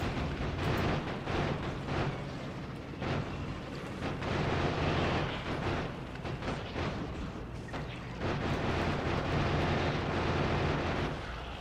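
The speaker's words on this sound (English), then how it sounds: "The grenades have a green explosion" Grenade blasts in the video game Factorio, a dense, continuous stretch of booming explosions and crackling bursts that runs loud throughout.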